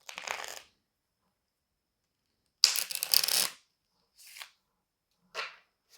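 Short bursts of oracle cards being shuffled, separated by silent gaps, with a longer riffle in the middle and two faint brief shuffles after it.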